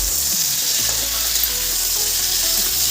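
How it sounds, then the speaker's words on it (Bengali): Cauliflower frying in a pan gives a continuous, even sizzle close by, a bright crackling hiss with faint low kitchen hum beneath and no talking. "ফুলকপিটা ভাজাটা করে নিই।"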